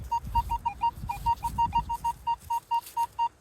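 A metal detector gives out its signal tone, a run of short, evenly spaced beeps pulsing at a steady rhythm, clear and fairly loud over low rustling.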